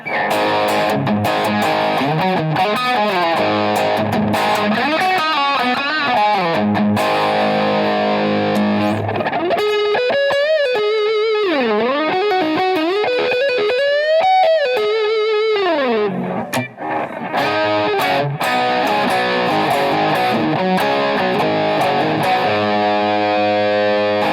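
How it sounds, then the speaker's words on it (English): An electric guitar plays a classic-rock crunch tone through a Stupor gain pedal. The gritty distorted chords and riffs run continuously, with a brighter, higher melodic passage in the middle. "Kick in a gain model pedal. I think it's the Stupor, I think they call it."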